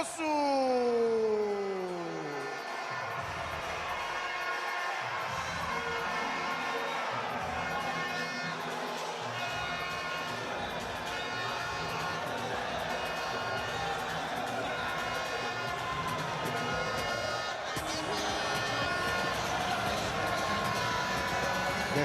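Crowd in a boxing hall at a GOtv Boxing Night event roaring and cheering as a boxer walks to the ring, a loud sustained din with whoops, under a commentator's voice.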